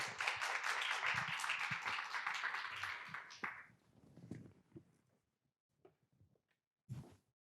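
An audience at a cancer survivors' talk concert claps, a fairly faint burst of applause that fades out after a few seconds, followed by scattered claps and quiet stirring.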